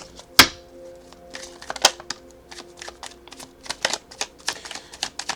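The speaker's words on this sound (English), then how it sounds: "One more shuffle." Tarot cards being shuffled and riffled in quick, irregular bursts of crisp flicks and taps, close by, with no voices.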